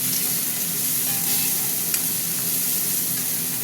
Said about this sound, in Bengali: এই হলো ডাল সাঁতলানো হয়ে গেল